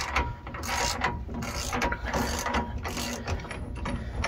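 A ratcheting removal tool works back and forth on a rubber Meritor pivot bushing, with steady dense mechanical clicking and grinding, close and continuous, no talking.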